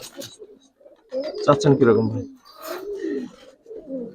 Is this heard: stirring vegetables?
no